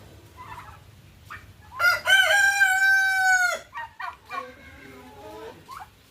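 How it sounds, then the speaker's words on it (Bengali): A rooster crows once, a loud drawn-out call standing close, followed by shorter clucks and calls from chickens nearby over a low background hum. "মুরগিগুলো শুধু দেখো কি দারুণ"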